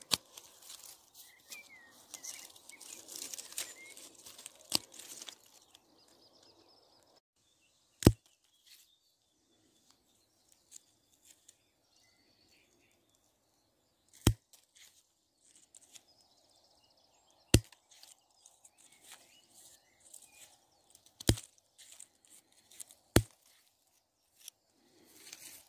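Dead rose stems being cut back with pruning shears in a garden, a handful of crisp, isolated snips spaced several seconds apart against quiet outdoor ambience, with soft rustling early on.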